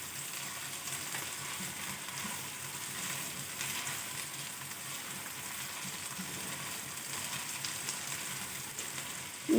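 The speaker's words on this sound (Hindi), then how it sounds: "तो अब मैं इसमें लहसुन अदरक का पेस्ट डाल के भूनूंगी।" Garlic ginger paste sizzles in a pan with softened onions for a creamy matar chicken, giving a continuous soft frying hiss throughout and a brief clatter at the very end, no talking.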